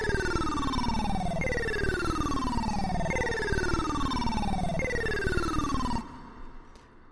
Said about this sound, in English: This one is a weird kind of video game, 8-bit type sound.